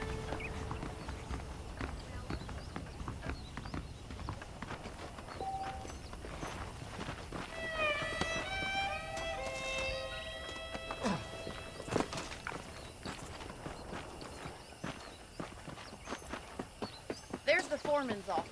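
Horse hooves clip-clop in steady walking rhythm in Red Dead Redemption, moderately close, while someone talks over much of it, with a brief bird-like whistle partway through.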